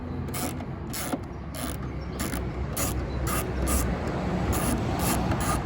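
Socket ratchet unscrewing 8mm nuts on a car tail light, a close, rapid series of evenly spaced clicking strokes with a faint hum beneath.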